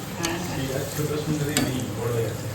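Food frying in a pan at home, a steady close sizzle with occasional stirring scrapes, continuous throughout with no talk.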